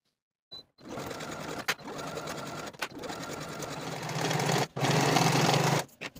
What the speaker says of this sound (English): Sew this seam with a 5/8 inch seam allowance and finish your seams in your preferred method